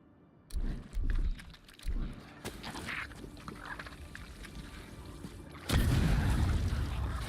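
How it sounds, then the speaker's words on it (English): Grenades explode in the fantasy game Avowed, with several deep, muffled booms early on followed by a heavier, sustained blast near the end, all close and loud amid combat noise. "Right behind you. The grenades."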